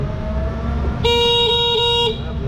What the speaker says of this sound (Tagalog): Maganda yung busina oh.